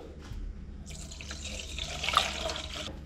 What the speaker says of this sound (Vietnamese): Rồi tiếp theo thì mình sẽ cho vào đây là 400 ml nước